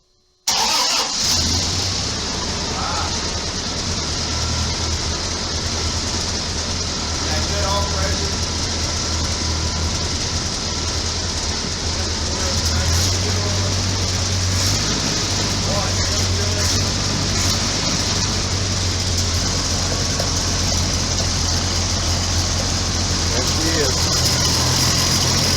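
A Ford Model A engine cranks and catches, then settles into a steady, loud, rumbling idle close by that runs without a break, with a person talking over it.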